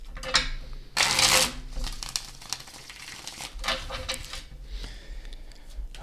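Tarot cards are shuffled by hand in crisp, riffling bursts, a loud flurry near the start and more brushing, tapping passes after it, close up with no talk.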